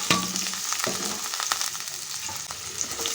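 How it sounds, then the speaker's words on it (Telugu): Onions frying in hot oil in a pan give a constant close crackling sizzle, punctuated by a few sharp spoon or spatula knocks against the pan, with no voices. "ఇప్పుడు ఇదే ప్యాన్లో కొంచెం ఆయిల్ అయితే వేసుకుని వేడిగానే ఉంది కదండి ఆనియన్స్ అయితే వేయించుకున్నాం"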